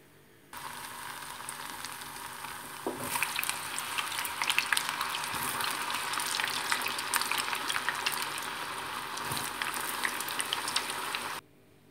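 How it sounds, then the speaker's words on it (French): Potato fries frying in hot oil for a Tunisian tajine, a steady dense sizzle and bubbling that begins abruptly, swells louder partway through and holds until it cuts off near the end, with no talking. "En attendant qu'on prépare les frites."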